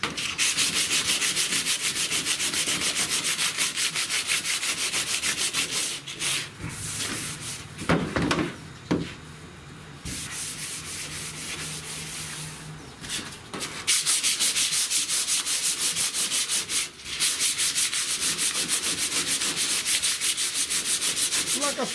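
A dual-action (DA) sander grinds heavy rust off the metal hood of a 1970 Buick Wildcat, a loud continuous abrasive whir that runs almost without a break, with short pauses and shifts in pressure midway through.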